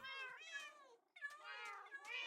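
A Minecraft cat in version 1.21.3 meows repeatedly in long, wavering cries, two sustained bouts split by a brief pause, close and fairly loud.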